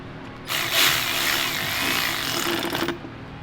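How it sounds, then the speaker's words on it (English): Ratchet tightening bolts on a car charge pipe, a loud, rapid, continuous clicking whir for about two and a half seconds, then it stops. "we're going to use a ratchet."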